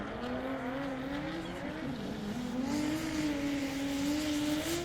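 High-powered drift cars with over 600 horsepower competing at a French drift championship round, engines droning and revving continuously at moderate distance, with a rising and falling engine tone and faint tire noise.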